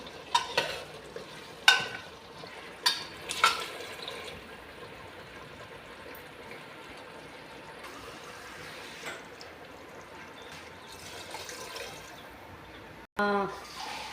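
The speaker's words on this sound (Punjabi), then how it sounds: "ਆਪਾਂ ਪਾ ਦਾਂਗੇ ਜੀ ਪਾਣੀ" Water poured into a pan of simmering pakora curry with moong dal badiyan sizzles and splashes, with a few sharp clinks and stirring scrapes early on, then a steady frying hiss near the microphone.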